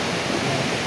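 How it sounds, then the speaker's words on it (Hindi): Heavy rain and fast-flowing water at Sahastradhara make a dense, steady rushing hiss, close and loud, in a burst of under a second with no voices. "अभी तक बारिश हो रही है, पानी एकदम तेज़ बह रहा है"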